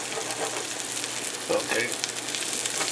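Potato pancakes sizzle in a frying pan as they are flipped, a moderate crackling fry with a couple of soft thumps and scrapes, while a person speaks briefly over it.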